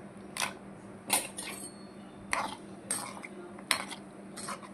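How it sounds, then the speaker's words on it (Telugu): Cashews tossed into hot ghee in a pan give a few sharp clinks and rattles of a spoon against the metal at irregular intervals, close by, over a low continuous background hum. "ఇప్పుడు మనము జీడిపప్పు వేసేసుకుందాం."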